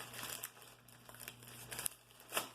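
A Macy's shopping bag is pulled open by hand, giving close, crinkly rustles and crackling bursts with a sharp tearing crackle near the end, over a faint steady hum.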